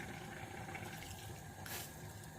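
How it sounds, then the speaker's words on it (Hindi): Water is poured into a cooking pot of minced meat and onions, a steady close splashing stream with a brief louder gush near the end and no talking. "तो थोड़ा पानी डाल दूँगी,"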